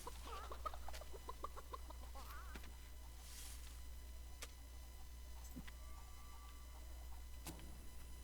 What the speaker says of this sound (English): Now we've got a passel of chickens following us.